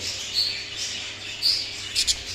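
Several short, high bird chirps and tweets, fairly faint, coming in small bursts with quiet gaps between them, no talking.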